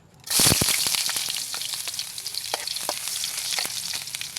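Cooking oil heats and starts frying in a pan for adobo, a sizzle bursting in suddenly with a few loud pops, then settling into a steady close crackle with occasional spits.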